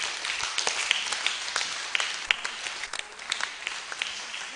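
An audience at a symposium marking 140 years of the OLA Sisters in Ghana claps for its speakers, with lively, dense applause and distinct individual claps standing out close by.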